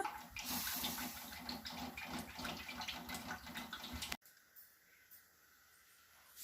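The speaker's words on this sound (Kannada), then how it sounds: "ಇವಾಗ ಎಣ್ಣೆ ಹಾಕ್ತಾ ಇದ್ದಾರೆ" Cooking oil poured into a pan while making a home recipe gives a steady liquid rush and trickle that runs for about four seconds, then cuts off abruptly, leaving a quieter background hum.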